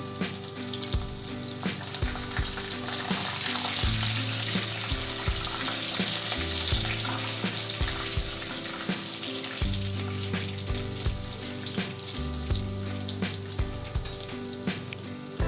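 Cashew pieces and curry leaves frying in hot oil for lemon rice, a continuous close sizzle with periodic stirring scrapes and clinks of a spoon against the pan, with no talking.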